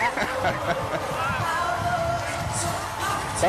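A parade crowd lines the street at the Houston Astros World Series celebration, giving a steady outdoor hubbub of cheers, whoops and chatter, with a few louder shouts standing out from the general noise.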